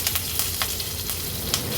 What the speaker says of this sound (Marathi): पॅनमध्ये तूप पण छान गरम झालं आहे अगदी चमचाभरच घ्यायचं खूप जास्त तूप किंवा तेल वापरायचं नाही फोडणीला आता आपण हे जिरं घालतोय नंतर ही कढीपत्त्याची पानं